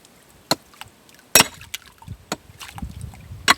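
A pick strikes hard, cement-like packed dirt while digging sapphire wash at Glen Alva, sharp isolated impacts landing every second or so, some louder and crisper, with scraping and shifting soil between blows.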